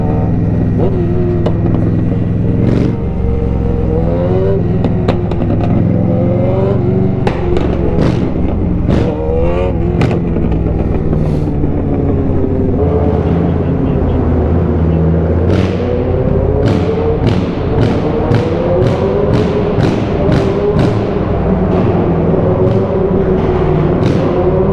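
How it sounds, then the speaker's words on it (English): Loud MV Agusta motorcycle engine revving repeatedly near a showroom, throttle blips rising and falling over a steady idle rumble, very close, with faint voices in the background. "Your bike is so loud, bro."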